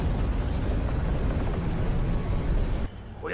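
An animated cannon fires a sustained, loud roaring blast that holds steady for about three seconds before cutting off abruptly into a faint tail.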